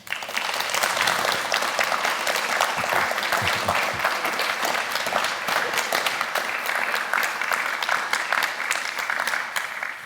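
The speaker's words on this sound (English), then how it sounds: "So please can we give a warm round of applause and a warm welcome to Michelle Mitchell" Warm, sustained applause from a lecture audience welcoming Michelle Mitchell OBE at the Kate Pretty Lecture 2024, a dense steady roar of clapping that continues for about ten seconds with little talk.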